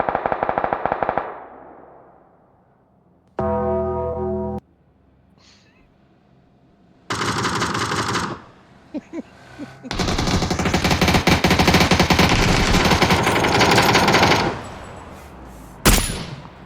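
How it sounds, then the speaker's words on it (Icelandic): Rapid machine-gun fire and other gunshots from a video game, coming in loud bursts separated by short pauses, with a sharp echoing blast near the end. "Á hvað voru þeir að skjóta?"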